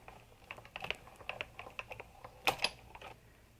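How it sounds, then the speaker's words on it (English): A Sizzix Big Shot die-cutting machine is cranked to roll cutting pads and cardstock through for embossing, giving a quick series of crisp, close clicks and ratcheting ticks, with a louder pair near the end. "And again, we simply roll this through the Big Shot."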